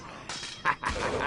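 A dog companion in The Bard's Tale Remaster video game gives a few quick, close yips and barks in a short burst, rising over a low game background.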